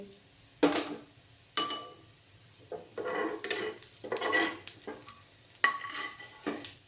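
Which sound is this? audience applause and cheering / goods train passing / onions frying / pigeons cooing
onions frying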